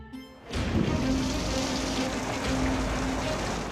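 Torrential rain in Los Angeles during a storm: after a quiet opening, a dense steady roar of heavy downpour swells in and continues evenly, loud and close throughout.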